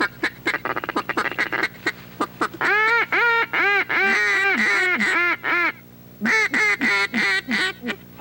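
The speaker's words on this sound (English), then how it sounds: "I like the tone of your call better than mine." Hunters blow duck calls in a series of rapid short quacks, then longer drawn-out honking notes and another run of quick calls, loud and close with brief pauses between bursts.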